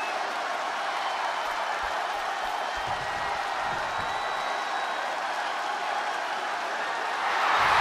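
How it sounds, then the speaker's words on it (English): Crowd noise from the WWE 2K22 wrestling video game during a Hell in a Cell main event forms a dense, steady roar throughout, swelling louder at the end, with a few low thuds early on. "The sound of this crowd is deafening, and he's asking for more."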